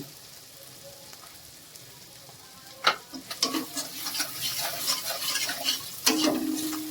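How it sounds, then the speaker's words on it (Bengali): Spice masala with red chili powder and salt is stir-fried in a pan: a quiet low sizzle at first, then a spatula scraping and stirring in bursts over louder frying, close up with no voices. "মশলা খুব ভালো করে কষাবো"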